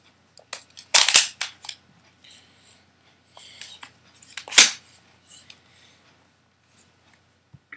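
A Nerf gun loads and fires a dart: a series of sharp plastic clicks and snaps, with two louder bursts separated by quiet gaps, heard close up without talk.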